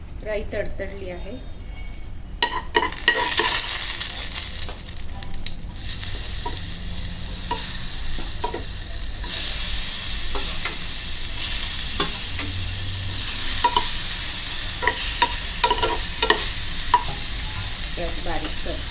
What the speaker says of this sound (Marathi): राई तडतडली आहे.